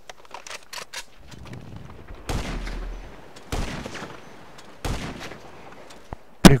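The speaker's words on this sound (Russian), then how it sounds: "Выстрел вообще был в какую-то левую точку." Gunfire in the video game GTA Online, a handful of sharp, loud single shots with short echoing tails spread across a few seconds, plus a few lighter clicks and thumps.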